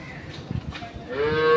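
A cow at a dairy farm lets out a loud, rising moo as a calf is led out, preceded by a few low, muffled thumps and shuffles.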